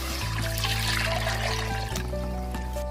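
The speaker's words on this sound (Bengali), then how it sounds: "জলটা দিচ্ছি পুরাই।" Water poured into a cooking pot for a country chicken curry, a steady splashing trickle under a low hum, with a brief clunk near the end.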